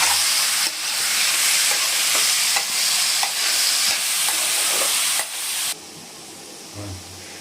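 Green chillies get stirred into a fish curry with kohlrabi as it fries, making a loud, continuous sizzle and hiss with rhythmic spatula scrapes. The sizzle drops to a quieter simmer near the end. No one speaks.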